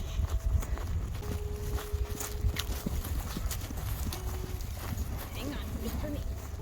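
Rescue horses are led on foot toward a field, their hooves clip-clopping in a loose, uneven rhythm close by while people talk over them.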